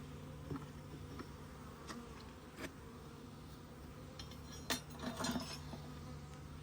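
Honeybees at a backyard hive during an early spring inspection, a faint steady buzz with individual bees droning past near the microphone and a few soft knocks of hive equipment.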